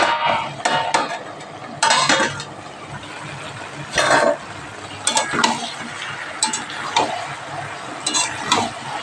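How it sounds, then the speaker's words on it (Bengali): Green chillies and vegetables are stirred in a pan with a faint sizzle underneath, and a spoon scrapes and clatters against the metal in irregular bursts that are loud and close. "একটু নেড়ে দিই"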